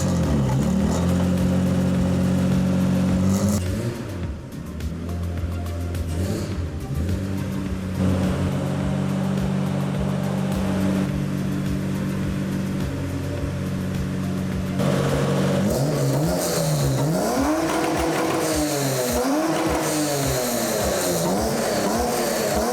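A right-hand-drive BMW E30 325i engine runs loud and close, holding at first, then rising and falling in repeated rev sweeps toward the end, with no voices heard.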